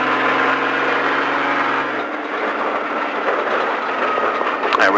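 Car engine under throttle while driving laps of a racetrack at Speed Vegas in Las Vegas, a steady loud roar with a droning low tone that shifts partway through as the car comes off and back onto the power.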